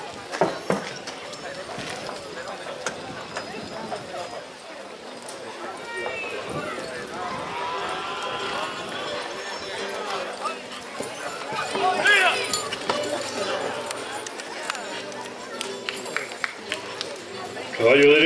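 Horses running in a Chilean rodeo championship run, hoofbeats and clip-clop sounding through steady crowd chatter and an announcer's voice over the whole stretch, with a louder surge near the end.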